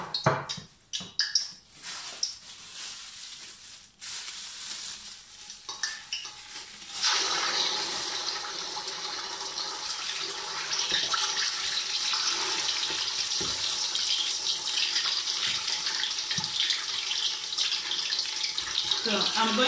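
Tomato puree, about 600 grams, frying for a party jollof stew, settling into a steady close sizzle after a few clattering knocks of the pan, with speech over parts of it.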